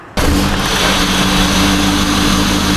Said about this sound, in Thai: สตาร์ทรถให้ฟังเสียงเครื่องสักนิดนึงนะคะ